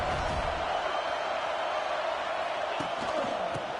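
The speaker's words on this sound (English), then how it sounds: "This crowd ready to make its presence known." Crowd roar inside a football video game stadium, a dense, steady wash of cheering at constant loudness with no pauses, a few faint thuds near the end.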